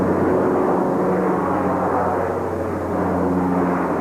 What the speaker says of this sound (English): the roar of American planes taking off from Riyadh Air Base